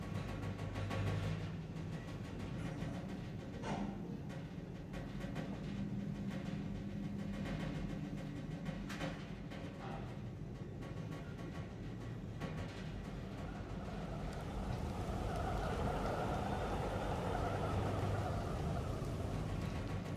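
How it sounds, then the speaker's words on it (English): A long elevator ride in the horror game The Evil Within, heard as a steady low mechanical rumble and hum with faint rattling, growing slightly louder and fuller near the end, with no voices. "I'm never riding in an elevator again."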